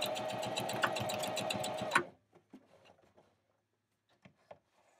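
Sewing machine running steadily for about two seconds while stitching a zipper seam into a pillow and doing a back stitch, then stopping, followed by faint scattered handling clicks and fabric rustles.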